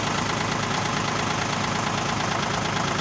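Kubota L1 245 tractor engine idling in neutral after a cold start, a steady, even diesel chatter with a constant low rumble and no change in pace throughout.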